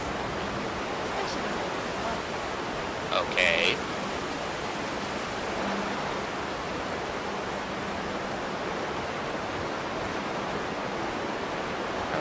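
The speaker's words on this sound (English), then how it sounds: "that waterfall is very painful on my ear" Waterfall rushing in the video game Skyrim, a loud, steady broadband roar that continues without a break, with a brief spoken word partway through.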